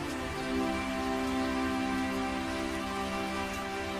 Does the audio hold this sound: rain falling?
yes